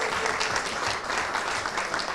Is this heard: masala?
no